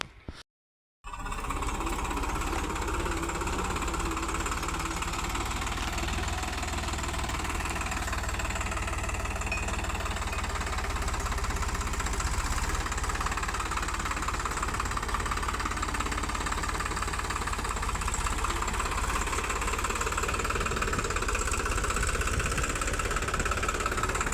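A Farmtrac 60 tractor engine chugs steadily and loudly after a brief silent start, a continuous rough mechanical drone with knocking vibration, no voices.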